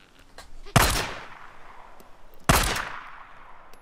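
Two sharp, loud gunshots from the game Days Gone ring out about two seconds apart, each followed by a fading echoing tail over a low background.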